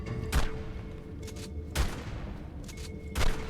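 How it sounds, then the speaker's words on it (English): Gunfire in ARK inside the Skylord artifact cave, with three sharp, loud shots spaced evenly about a second and a half apart and softer pops between them. "That takes way too many shots"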